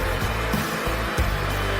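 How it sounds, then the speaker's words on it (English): A hairdryer runs at maximum power with a ping pong ball floating in its airflow, giving a loud, steady, close whooshing roar that dips briefly a few times. "Turn on the hairdryer at maximum power and place the ball in the airflow."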